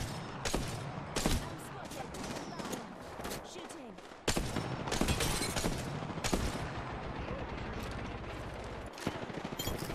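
Sniper rifle shots trade back and forth during a firefight in the video game Apex Legends, with sharp single cracks and clusters of rapid fire at varying distances and a voice talking underneath.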